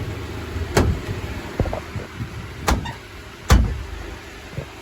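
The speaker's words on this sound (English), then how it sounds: "So close this hood." Honda Civic with a swapped K24A2 engine has its hood shut, giving three sharp, close thumps spaced over several seconds against a quiet, faintly humming background.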